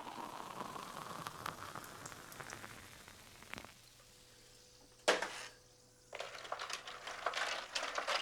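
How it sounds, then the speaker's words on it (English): Fine crackling fizz of club soda topped up over raspberry syrup in a glass, a soft continuous patter of bursting bubbles with a brief louder splash partway through. "topped up with standard issue club soda"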